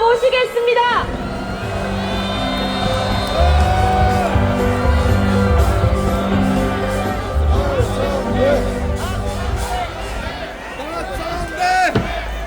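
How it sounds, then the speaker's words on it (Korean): Large outdoor political rally crowd cheering, shouting and whooping with applause, loud and sustained, with voices calling out over the din. "여러분의 큰 박수와"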